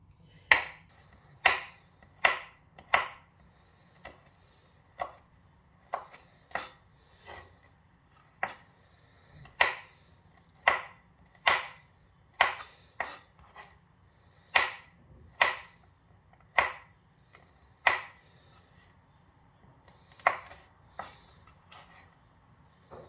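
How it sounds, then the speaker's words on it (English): Knife chopping pistachios on a cutting board for a cheesecake topping: a steady run of about twenty sharp, clear chops at an even pace, close and alone with no talk. "I'm going to chop up this pistas."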